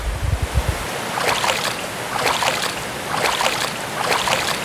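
A waterfall near Bhatkal, Karnataka gives a steady, full rushing roar with wind gusting across the microphone, loud and continuous with no talk.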